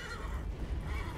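Roach, the horse in The Witcher 3, lets out a single short neigh, loud and near, with faint hoof clatter and no talk.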